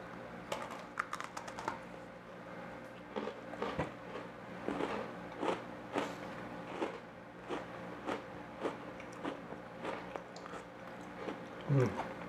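A Selena Gomez cinnamon Oreo cookie is bitten and chewed close up, giving a run of small quiet crunches and crackles in an otherwise quiet room.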